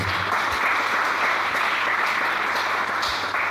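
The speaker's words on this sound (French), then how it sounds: "Est-ce qu'on peut acclamer le Seigneur?" A church congregation applauding to acclaim the Lord at a thanksgiving service: dense, sustained clapping from many hands that fills the room at a steady loud level, with no break over several seconds.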